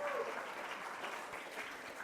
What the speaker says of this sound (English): give a huge round of applause for Paula